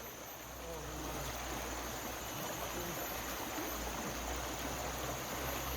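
Fast-flowing river current in a rapids stretch while fishing for red mahseer, a steady broadband rush of water running throughout with no break in level.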